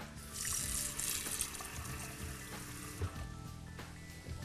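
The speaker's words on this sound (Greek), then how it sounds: "Και τα βάζουμε σε ένα μπολ με νερό" Cut potatoes are dropped into a bowl of water in a home kitchen, giving a steady close splashing and trickling wash with a few soft knocks.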